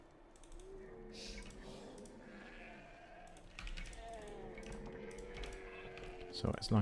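Sheep bleat several times in an Age of Empires style strategy game, short wavering calls mixed with clicking game effects and light mechanical sounds.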